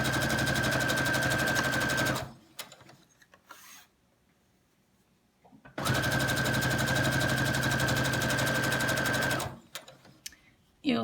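Electric sewing machine stitching fabric binding onto a gathered face mask, running in two long steady bursts with a pause between, each with a fast whirring buzz and a steady hum.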